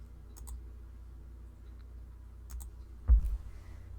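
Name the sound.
mouse clicking on Smart Object tab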